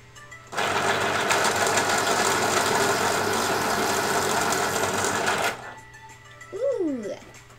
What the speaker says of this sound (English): Let's try and sharpen this.